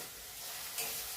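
Ginger sizzles and crackles steadily in hot oil, a dense close-up frying hiss that swells slightly partway through.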